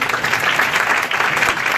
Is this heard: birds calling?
no